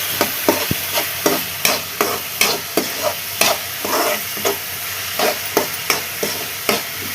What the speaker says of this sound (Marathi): आनी ते आतां सगळे बरें आमी सॉटे करून घेवया.